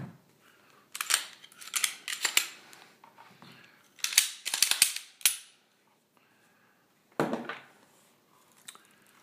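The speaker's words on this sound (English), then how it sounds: "This gun is loaded since I do carry, so I will clear it." A carried, loaded handgun being unloaded and cleared, bursts of crisp metallic clicks and rattles from the slide and magazine, close up, separated by short pauses, with a final clack after a brief silence.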